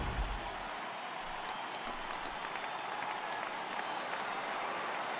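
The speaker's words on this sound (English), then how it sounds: "The crowd is ready to erupt as their guys get set to take the field." Stadium crowd in MLB The Show 18 roars steadily before the first pitch, a dense, continuous wash of cheering and applause that holds at an even level throughout, with no voices standing out.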